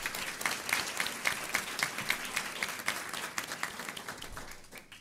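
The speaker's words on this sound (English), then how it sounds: "let's just give them a round of applause" A school board meeting audience claps at a moderate level, with individual hand claps standing out sharply from a steady wash of applause that gradually thins out toward the end.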